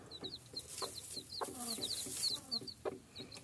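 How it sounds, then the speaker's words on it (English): Young chickens peep and cluck in quick repeated bursts just outside their coop, a lively flock of small chirps at moderate distance with no talk over them. "there's the chicks"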